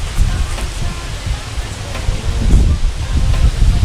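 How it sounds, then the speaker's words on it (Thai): Strong wind roars through trees and tents at a campsite in Kaeng Khoi, Saraburi, a dense, gusting rumble with rustling that buffets the microphone and swells louder toward the end. "ลมแรงมากเลยครับ"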